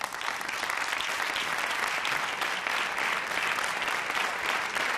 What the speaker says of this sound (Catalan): Donem un aplaudiment i una benvinguda a Mariano Sánchez Soler